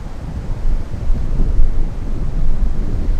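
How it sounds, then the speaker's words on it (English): Gusty wind buffets the microphone at Miami International Airport as a Lufthansa arrival approaches, a steady low roar swelling and easing, loud and close with no talk. "here we go as the wind starts to pick up"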